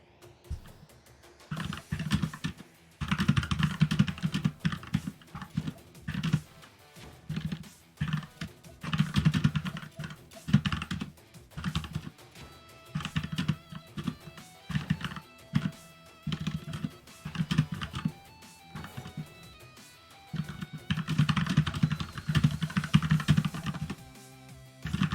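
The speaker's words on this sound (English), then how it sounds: "I was typing in the Discord, letting people know which matches to hold" Typing on a computer keyboard while messaging in a chat during an online Fantasy Strike fighting game tournament: bursts of close, rapid key clicks separated by short pauses.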